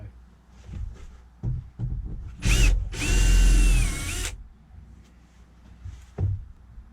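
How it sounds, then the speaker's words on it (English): A power drill whirs in two close bursts while deepening counterbores, the second longer with pitch dipping under load, amid quiet workshop clatter during a Volkswagen camper van conversion. "I've got to drill those counter bore a bit deeper"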